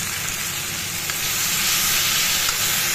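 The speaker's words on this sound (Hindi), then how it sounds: "एक दो मिनट यहाँ प्याज को मैं थोड़ा सा भून लूँगी, ज़्यादा नहीं भूनूंगी" Onion with ground tomato paste sizzles steadily in a pan, a bright continuous hiss of frying that holds evenly throughout with no voices.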